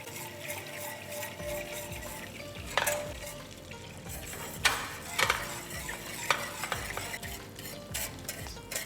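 Scotch butter browning and foaming in a pan for peanut cookies, a steady crackling sizzle with intermittent scrapes and clinks of a utensil stirring against the metal, no talking.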